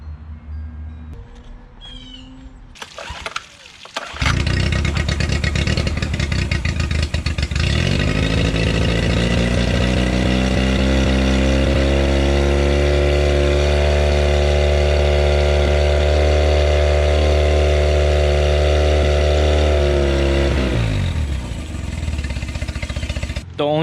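A repaired outboard boat engine, carburetor newly fitted, starts after a few seconds of clatter and then runs loud and steady at a constant idle-to-mid speed for nearly twenty seconds before it winds down.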